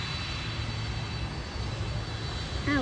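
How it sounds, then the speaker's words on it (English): A DHL Boeing 767 takes off with a loud, continuous jet engine roar at some distance. The steady rumble holds throughout, and a short whine rises near the end. "767 to take off. It's coming up."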